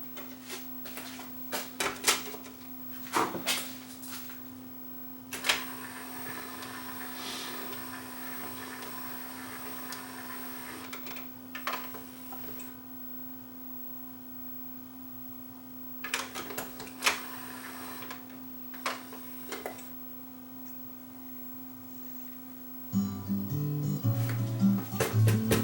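An NAD 517 CD changer that skips on playback whirs and clicks mechanically as it loads and spins a disc, with intermittent ticks over a steady low hum and a louder clattering stretch at the end.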